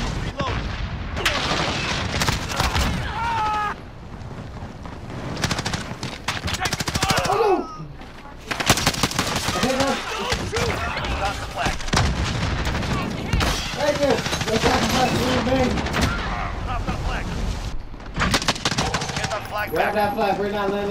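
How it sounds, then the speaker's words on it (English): Sustained machine gun bursts from the first-person shooter Modern Warfare in multiplayer, loud and dense with explosions mixed in, running almost without pause, a player talking over the firing. "stop shooting me! Under fire!"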